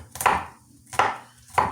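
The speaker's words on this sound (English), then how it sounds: "chopping this up" Food is chopped on a board during meal prep, three firm knife strikes spaced evenly and close up with no talk.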